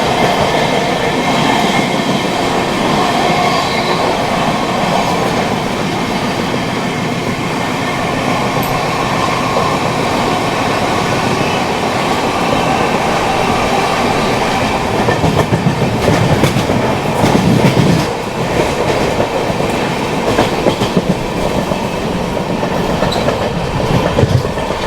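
The Sairang Rajdhani Express runs at speed on Indian rails, heard from inside with a loud, steady rumble and rhythmic clickety-clack of wheels over joints, faint squeals and rattles, continuous for the whole stretch.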